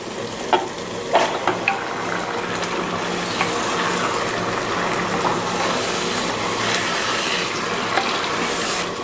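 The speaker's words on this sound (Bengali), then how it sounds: "মশলাগুলোর সাথে মাংসটাকে খুব ভালোভাবে মিশিয়ে দিলাম" Two kilograms of chicken stirred with ground spices in a hot pot give a continuous close sizzle, with a few sharp scrapes and clinks of the spoon near the start.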